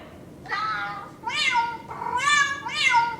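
A phone app meant as a human-to-cat translator plays four drawn-out synthetic cat meows in quick succession, clear and close, with no talk over them.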